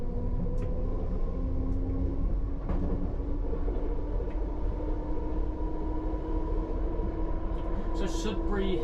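A London Underground Piccadilly line train runs in the rain, heard from the driver's cab as a constant loud rumble with a steady motor whine, a few faint clicks from the track, and voices under the noise.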